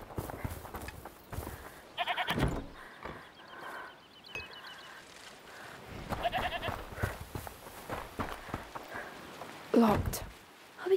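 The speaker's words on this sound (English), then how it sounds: "Listen, is that the goat he talked about?" A goat bleats several times at moderate loudness in the A Plague Tale: Requiem video game, its calls recurring between stretches of game sound and dialogue.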